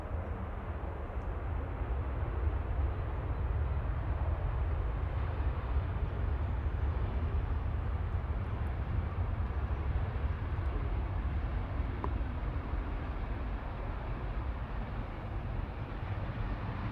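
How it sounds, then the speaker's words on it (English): A Boeing 737-800 touching down at Manchester Airport, arriving from Dublin, makes a steady low broadband roar that holds level throughout, distant and without distinct peaks. "Right now, touching down from Dublin, I think"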